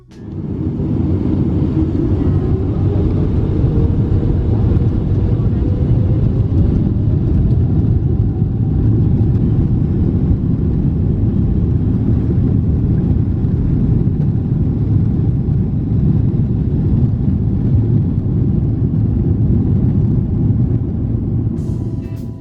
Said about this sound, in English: sit back and hear the sweet music of the GE90 engine